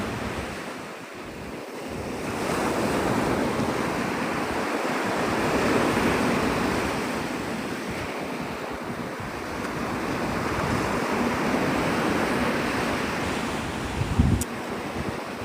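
Ocean waves wash steadily onto the sand at Navarre Beach, Florida, at sunrise: a continuous, close, rushing surf roar with wind buffeting the microphone, no voices, and a brief bump near the end.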